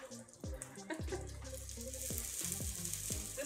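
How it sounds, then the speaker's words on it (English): Food sizzles in a frying pan at the start of cooking lamb chops, a steady hiss with occasional louder bubbling pops and thumps, fairly faint and close. "We got the sizzle dizzle. That is the sound that starts everything."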